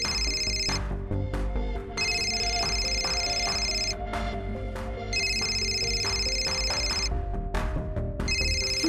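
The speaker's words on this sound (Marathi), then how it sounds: "फोन कुठं वाजतोय का?" A telephone rings in repeated electronic bursts, each about a second long with short gaps, loud and close, over a low background hum and no talking.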